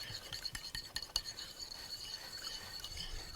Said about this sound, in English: You really want to give this a good whisk